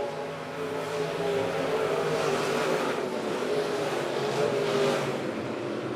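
Race cars at Monett Motor Speedway roar together in a dense, continuous engine drone during a feature race, a broad loud wash with no voices over it.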